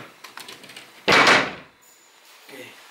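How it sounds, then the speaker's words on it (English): A door in an abandoned store in Belgium swings shut with one loud, close thud, followed by quiet room tone and faint movement. "Okay, the door is closed."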